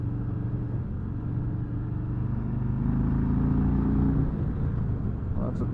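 A Harley-Davidson Road King Special with a Milwaukee 8 engine idles with a deep, close rumble, then revs up to a fuller, louder roar partway through before easing back.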